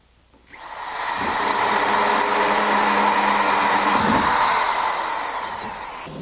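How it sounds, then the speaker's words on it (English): A hole saw drills openings in a bathroom cabinet, a loud steady whirring drone that spins up, holds for several seconds with a brief dip in pitch, then runs on without talk. "Then with a hole saw, drill out the openings."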